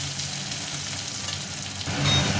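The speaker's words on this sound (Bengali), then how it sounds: "তো দেখতেই পাচ্ছ পেঁয়াজটা কিন্তু ভাজা হয়ে গেছে" Onion fries in a pan with a steady, close sizzle and light stirring noises. A louder burst of frying comes near the end, with no voices.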